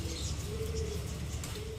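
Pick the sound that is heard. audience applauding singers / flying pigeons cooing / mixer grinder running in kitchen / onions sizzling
flying pigeons cooing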